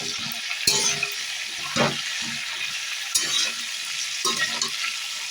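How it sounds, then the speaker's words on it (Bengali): Chopped radish and raw plantain with a little salt fry in a kadai over a medium-low flame, sizzling steadily while a spatula stirs and scrapes against the pan every second or so. "অল্প পরিমাণ নুন অ্যাড করে দিয়ে সবজিগুলোকে ভেজে নিচ্ছি"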